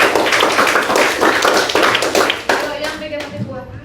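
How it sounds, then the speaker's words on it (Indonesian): Students clap their hands together in a primary school classroom, a burst of sharp claps that thins out after a few seconds, with voices audible throughout. "Oke, tepuk tangan."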